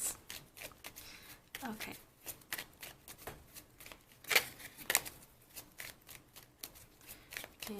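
Tarot cards shuffled, handled and drawn for a pick-a-card reading, with a continuous soft riffling and slapping of cards and a few sharper snaps, close up beneath a speaking voice.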